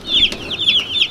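Two-day-old Cornish Cross chicks in a brooder chirp steadily in a rapid run of bright, repeated peeps, close and fairly loud, with no talking.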